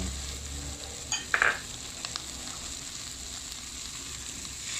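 Fried shrimp being stir-fried in a wok with yellow and red chili peppers, giving a steady low sizzle with a few brief louder clatters of stirring near the start.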